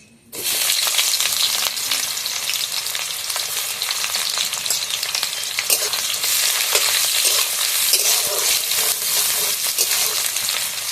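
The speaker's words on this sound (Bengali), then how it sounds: "এবারে দিয়ে দেবো আমি কেটে রাখা পেঁয়াজ।" Chopped onion dropped into hot oil already tempered with dried red chili and bay leaf, frying with a loud, steady, dense sizzle that starts abruptly and holds throughout, with light stirring scrapes and no talk.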